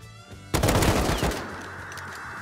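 Gunfire in the survival game Rust: a sudden loud burst of rapid shots erupts after a quiet moment, then trails into a ringing, decaying wash of noise.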